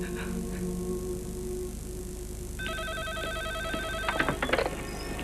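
Electronic telephone ringing in a quiet room, a warbling ring tone starting partway through and repeating in short bursts, fairly faint and alone with low background hum.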